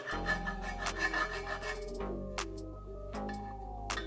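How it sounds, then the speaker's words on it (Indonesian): A hand file rasps along the sharp edges of a Vespa scooter engine part in steady, repeated strokes, close and fairly loud, with no talking. "Kalau bagian yang lancip-lancip ini di kikir."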